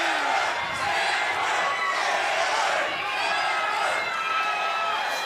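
Spectators at a fight in Mississippi roar and cheer, a dense, continuous crowd noise that stays loud and swells slightly throughout.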